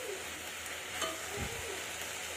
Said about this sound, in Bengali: পেঁয়াজ, শুকনো লঙ্কার 5 ফোড়ন দিয়ে কড়ার মধ্যে নাড়াচাড়া করা হচ্ছে।